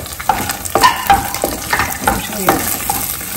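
Cashew nuts and tempering spices fry in a pan for coconut rice, giving a steady close sizzle broken by repeated scraping stirs of a spoon, with no talking.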